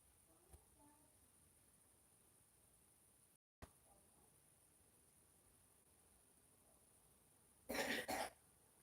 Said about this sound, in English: Still got that nasty cough.